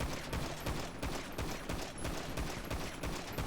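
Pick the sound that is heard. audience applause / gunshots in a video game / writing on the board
gunshots in a video game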